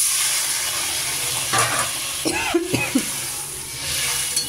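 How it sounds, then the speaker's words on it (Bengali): Hot water is poured into a curry of lentil fritters frying in a pan, giving a steady sizzle with a burst of splashing and gurgling midway, then settling back to frying and stirring. "পরিমাণ মতো গরম জল দিয়ে দিচ্ছি"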